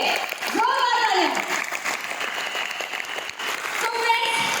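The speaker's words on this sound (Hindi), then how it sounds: "सर और मैम भी एक बार तालियां सभी के लिए, जोरदार तालियां" Applause from an audience at a Vestige network-marketing success event, steady and fairly loud throughout, with a voice briefly calling out over it near the start and again toward the end.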